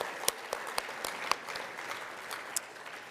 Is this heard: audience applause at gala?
yes